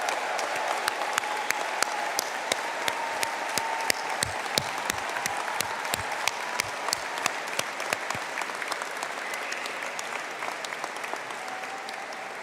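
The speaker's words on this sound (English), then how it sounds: "I think we can have a very loud collective round of applause for all of our graduates" A large audience at a Faculty of Business and Hospitality conferring ceremony applauds the graduates with steady, sustained clapping that fills the hall and fades slightly toward the end.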